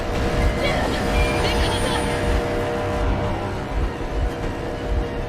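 Vehicle engine idling in the Metro Exodus video game, a steady low rumble that runs continuously throughout and stays under scattered game sounds.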